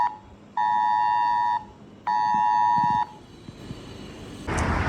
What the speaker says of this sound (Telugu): ఇప్పుడైతే బీప్ వచ్చింది,